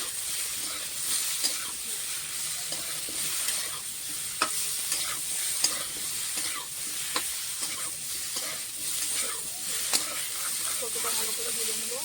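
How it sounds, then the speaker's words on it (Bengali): Cauliflower pieces fry in a pan with salt and turmeric, giving a steady close sizzle and hiss broken by regular clinks and scrapes of a spatula stirring throughout. "সামান্য একটু হলুদ গুঁড়ো দিয়ে ভালো করে ভেজে নেব"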